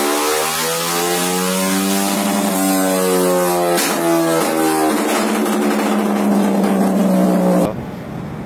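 A Honda Sonic 150R motorcycle engine runs hard on a dyno with a tune set up for backfire, a loud sustained rising drone that climbs steadily before cutting off abruptly near the end.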